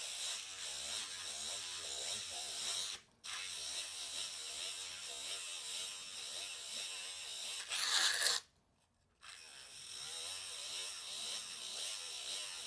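A dental diamond bur grinding a model during a dental lab demonstration, producing a steady high whining grind near the microphone with two brief pauses where the tool stops.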